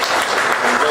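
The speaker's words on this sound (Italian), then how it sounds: "un applauso per il nostro amico" Applause for a speaker at a talk on the sundial of Piazza della Borsa in Trieste: a short, loud burst of dense clapping close by, with a voice faintly mixed in.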